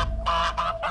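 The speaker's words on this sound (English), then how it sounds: "And last, but not least, the geese." Farm geese give several loud, close honking calls in quick bursts over a steady low hum, with no talking.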